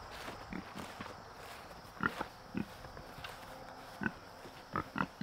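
Pigs excited about food give scattered grunts and short oinks among shuffling footsteps and rustling, moderately close, with no talk.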